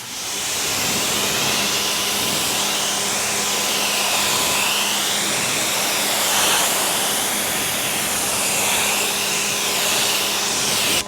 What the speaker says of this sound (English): All right, let's give it a rinse.